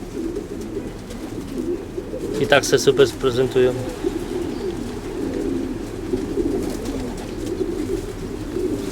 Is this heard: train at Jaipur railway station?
no